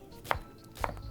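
Two sharp knife chops land on a cutting board while crawfish and shrimp étouffée is being prepared, each a crisp, close thud spaced about half a second apart, with faint kitchen background and no talking.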